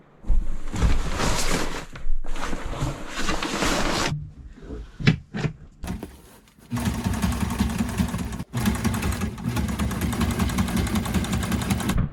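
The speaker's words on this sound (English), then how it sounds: "It's time to remove the stack pack so I can sew my new modification to it." A sewing machine stitches a modification onto a sailboat's stack pack in long, loud whirring runs, broken by short pauses and quick bursts.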